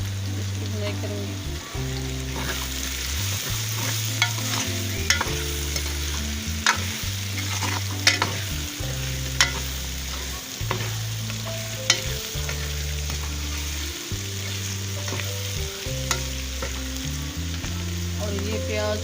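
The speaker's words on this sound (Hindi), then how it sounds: "और ये मोटे कटे हुए प्याज शामिल कर रही हूँ, इसकी बुनाई करूँगी।" Thick-cut onions sizzle loudly in a pan for chicken liver and bitter gourd masala, with steady frying broken by repeated scraping and clattering stirs close by.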